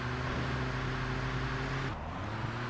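A low, rumbling car engine in the video game Grand Theft Auto 2 drones steadily with a faint electronic quality, shifting slightly in pitch near the end.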